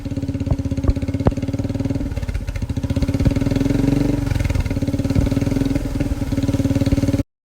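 A motorcycle cruises across a long river bridge over the Brahmaputra, its engine putting out a steady, pulsing mid-range thrum with wind rush, loud and close throughout before cutting off abruptly.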